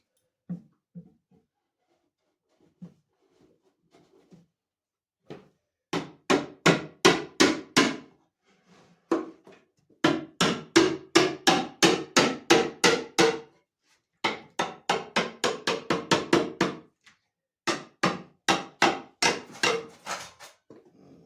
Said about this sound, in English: It will be a tight fit, so we will have to drive it through with the hammer.